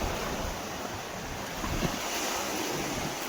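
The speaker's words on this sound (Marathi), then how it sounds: "समुद्राचं पाणी पूर्ण तालनावर आलाय" Sea waves rolling onto the shore at high tide, a continuous broad wash of surf mixed with wind buffeting the microphone, steady and moderately loud with no voices.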